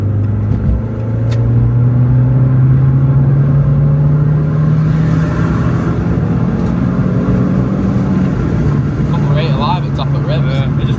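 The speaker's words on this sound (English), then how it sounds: "It like comes alive at top of revs." A Renault Clio Sport 182 engine revs hard, a loud steady rising drone with a broad rumble that holds for several seconds and then eases off near the end, and talk is faintly present underneath.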